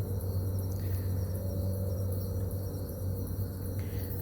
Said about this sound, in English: there's a lot of bugs around. I'm outside near a drain